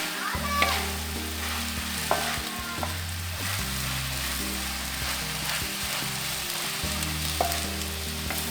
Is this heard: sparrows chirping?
no